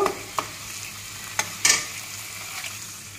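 Water goes into fried spices in a pan for a pabda fish curry, producing a muted hiss and sizzle with a few sharp spoon clicks and a brief splashy burst partway through.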